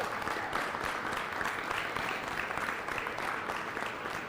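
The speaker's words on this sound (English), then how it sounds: "So please, a round of applause for Dan." An audience at a youth meat goat show claps steadily, a dense, even applause from a crowd sustained for several seconds.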